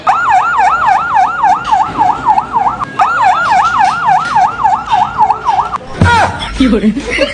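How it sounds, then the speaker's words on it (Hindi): A loud ambulance siren wails nearby in fast rising-and-falling cycles, pausing briefly midway, then cut off by a sudden sharp noise near the end. "अबे एम्बुलेंस है वो"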